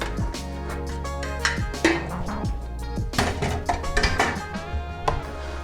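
Meat sauce and rigatoni mixed in a pot, with a steady run of close metallic scrapes and clanks of a utensil against the pot, irregular and fairly loud, with no talking.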